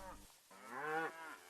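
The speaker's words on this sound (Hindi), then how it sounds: "गायें रंभाती हुई" A cow gives one drawn-out, rising and falling moo, close and clear, after a brief low sound at the start, set within a Hindi radio play.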